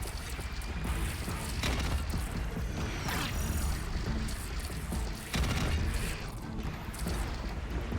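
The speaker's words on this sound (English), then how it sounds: "What's loud? The explosions?" Explosions in the video game Horizon Zero Dawn, repeated heavy booms and crashing bursts over a dense, constant background of game noise, with a short dip before another loud blast.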